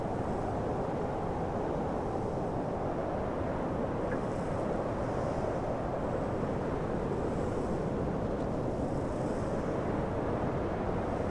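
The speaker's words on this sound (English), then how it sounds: "it's fucking windy here." Strong wind blowing through a video game scene: a constant, heavy roar of air that barely changes for the full length, with no voices over it.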